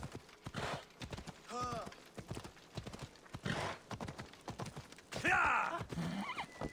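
Horse hooves clip-clop in Assassin's Creed Odyssey, a rhythmic run of hoofbeats at moderate level, with a whinny and other game sounds rising near the end.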